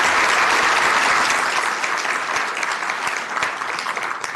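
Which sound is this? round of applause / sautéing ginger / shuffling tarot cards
round of applause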